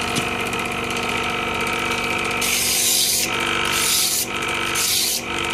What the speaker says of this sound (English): Then you want to take a tip trimmer